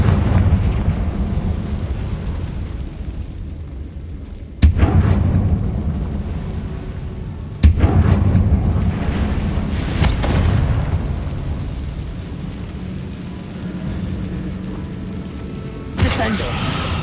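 Confringo fire spell blasts in Hogwarts Legacy, a series of loud booming explosions with sharp onsets around a third and half of the way through, trailing rumble and a later burst, over continuous game ambience.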